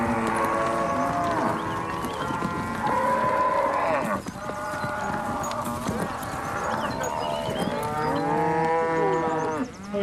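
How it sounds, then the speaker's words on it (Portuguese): Cattle on a farm, a herd of common-breed recipient cows, moo repeatedly and loudly in overlapping calls, with hoof clops and general herd noise underneath. "Esse é um lote de vacas receptoras"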